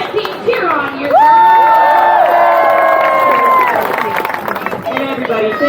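A crowd at a stunt dog show at the State Fair of Texas cheering and shouting loudly for racing dogs, with sustained whoops and high-pitched yells swelling then easing, mixed with an announcer's voice.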